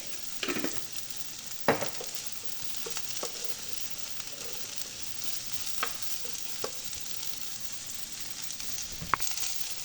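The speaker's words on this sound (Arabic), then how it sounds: "غادي نخليهم يتشحروا شويه مع شويه ديال المليحه" Shrimp sauté in a pan with a pinch of salt, giving a steady, close sizzle punctuated by occasional sharp clicks and scrapes of stirring, with no voices.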